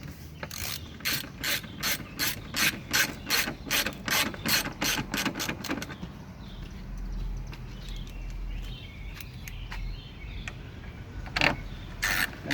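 A ratcheting hand tool tightens screws on a 2012 Hyundai Veloster brake light, giving a rapid, regular series of close metallic clicks for about six seconds, then a quieter rustling pause and a few final clicks.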